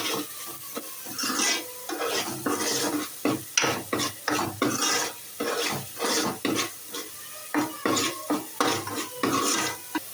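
A spoon scrapes and knocks through spices, turmeric, salt and oil in a pan for crab curry, giving repeated rhythmic strokes with short pauses between them, close and clear over a faint frying hiss.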